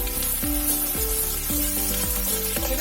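Onion, garlic and ginger frying together in a pan, a steady loud sizzle with a low hum and recurring tonal clatter layered over it, no voices.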